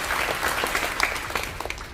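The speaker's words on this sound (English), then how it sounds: "So give her a big round of applause." An audience claps at a school class day ceremony, a dense sustained round of applause with sharper individual claps popping out near the end as it starts to thin.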